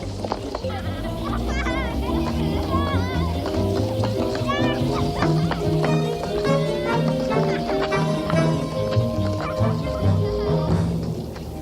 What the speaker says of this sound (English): Now, what the deuce is the matter with the dog?